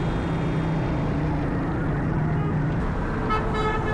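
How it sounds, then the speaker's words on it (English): Slow street traffic crawls through Karachi, a steady roar of engines and road noise with a brief honk or two of car horns near the end, no talking. "Slow traffic here."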